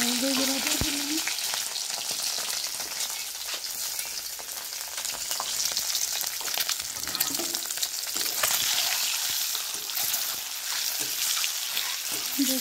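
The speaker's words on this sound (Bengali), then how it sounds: "ডিম দিয়ে ভেজে নেবেন তেলের মধ্যে, হলুদ গুঁড়া দিয়ে" Eggs and vegetables fry in hot oil with turmeric powder, a steady close sizzle and crackle with occasional stirring, no talking.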